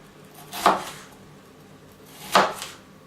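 A kitchen knife chops through bell peppers on a cutting board with two crisp, close strikes about a second and a half apart, with quiet pauses between them and no talking.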